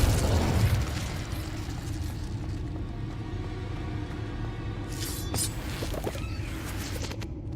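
A Confringo blasting spell from Hogwarts Legacy lands as a low boom, loudest at the start, then trails into a rumbling tail. Faint crackles and pops follow later.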